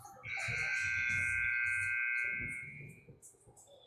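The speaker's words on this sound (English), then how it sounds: "All right, there's the buzzer." A loud, steady electronic buzzer sounds at an ice hockey rink before the third period of a youth peewee game, holding for about two seconds amid crowd murmur and a voice.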